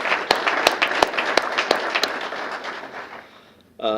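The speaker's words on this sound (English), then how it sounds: "let's have a round of applause for Richard Grover" A crowd applauds steadily with sharp individual claps standing out at a mayor's employee recognition awards ceremony, fading over a few seconds before a voice begins speaking at the end.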